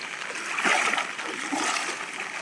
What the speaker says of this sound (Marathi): इकडनं पण पाणी चालू आहे.